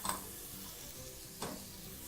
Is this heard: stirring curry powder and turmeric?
yes